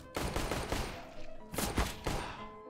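Rapid bursts of automatic gunfire in a Counter-Strike round, several close, loud volleys separated by short pauses, with thumping impacts and no voices over them.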